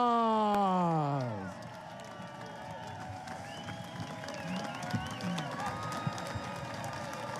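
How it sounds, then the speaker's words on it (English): At a live seminar, a brief spoken voice gives way to an audience clapping and cheering, a moderate crowd noise that continues steadily with occasional louder whoops. "Give them a round of applause."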